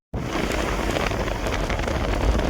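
Heavy rain pours steadily on a dangerous mountain road, a dense, loud, unbroken hiss of drops with scattered sharper splashes, continuing without any voices.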